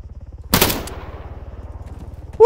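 In the video game Arma 3, a loud, sharp burst of automatic gunfire cracks close by, followed by a rapid rhythmic engine-like thumping that continues underneath and a second short burst at the end.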